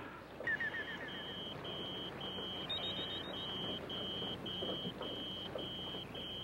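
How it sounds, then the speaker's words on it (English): A beeping pocket watch in a 1964 comedy film scene gives a steady series of short, high electronic beeps, evenly spaced and repeating at moderate loudness over faint background hiss, with no talk. "That funny little noise that goes beep, beep, beep. Oh, that is my pocket watch."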